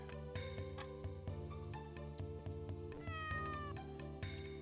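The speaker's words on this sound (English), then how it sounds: "the cat actually meows" A cat meows in the Sega Saturn role-playing game Albert Odyssey, a few short synthesized mews rising over steady looping game music.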